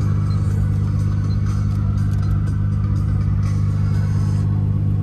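A Nissan R32 GTR engine idles steadily with its turbo timer running, a loud continuous low rumble with a strong harmonic hum and no voices.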